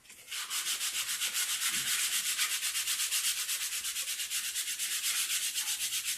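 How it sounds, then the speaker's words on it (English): Sandpaper rubs in quick, even back-and-forth strokes over the surface of model rocket fins, a close, steady rasping with no talk. "just lightly sand the surface of your fins here. On both sides."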